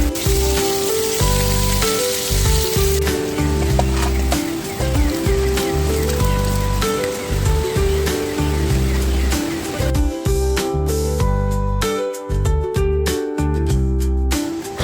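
Steady rain pattering on a riverside campsite at night, dense and continuous hiss close by, with occasional louder drips and a brief lull near the end.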